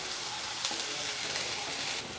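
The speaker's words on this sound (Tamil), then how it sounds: "எல்லாத்தையும் சேர்த்து ஒரு 2 நிமிஷம் லேசாக அப்படியே நம்ம வதக்கி விட்டுறலாம்." Steady, dense sizzling of vegetables sautéing in a hot pan, continuous and close, with a brief louder crackle partway through.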